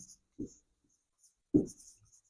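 A pen writes the Bengali letter ক on paper: two short, quiet scratching strokes separated by silence.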